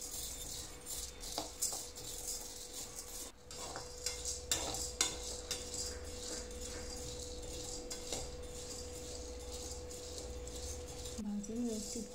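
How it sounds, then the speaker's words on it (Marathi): Chana dal dry-roasts in a pan for thalipeeth bhajani, stirred with a utensil that makes repeated scraping and clinking strokes, a soft faint sizzle beneath, close by, with a few brief spoken sounds. "आता डाळ भाजून घेत आहे"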